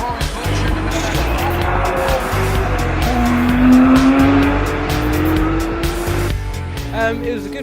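Porsche Carrera Cup race cars roar together at a race start amid tire squeal and engine whine, with a commentator talking over the loud, continuous motor noise and a sharp burst near the end.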